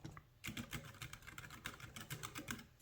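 Quick, steady keystrokes patter on a portable wireless trifold keyboard with a built-in trackpad, a faint, close run of soft clicks with no voices.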